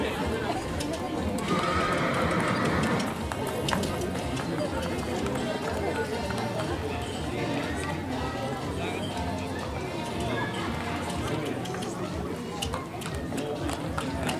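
Horses running together at a children's market event, their whinnies and hoofbeats carrying steadily over a dense background of crowd chatter and talk throughout.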